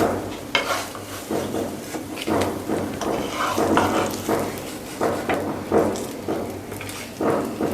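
Vegetable cutlets frying in oil in a pan, a steady sizzle broken by repeated scraping and stirring clatter of a utensil against the pan, close and continuous.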